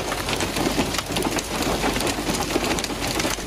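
Heavy rain and hail in Islamabad, a dense, loud, continuous downpour hammering on surfaces with no gaps and no voices.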